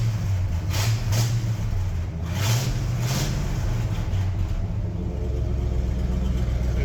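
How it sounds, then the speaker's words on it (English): Engine of a 1972 Ford F750 truck held at a raised idle, then settling lower, a loud, close, steady low rumble with a few brief surges. "kind of hanging a higher idle right there, and then it idles down, so not too bad"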